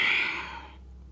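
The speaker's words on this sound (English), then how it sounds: "Breathing out." Slow exhalation during a beginner back and hip yoga flow, a single soft airy breath out that fades over about a second, close and alone.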